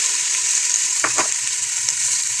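Sweet onions frying in a pan, a steady close sizzle throughout with a couple of brief stirring scrapes in the middle and no talk.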